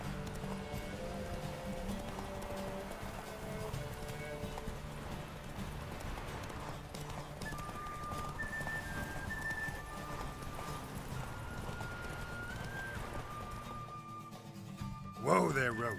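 Roach, a horse in The Witcher 3 video game, gallops in a steady clip-clop rhythm beneath game music and ambient sound for the whole stretch, with a brief louder burst near the end.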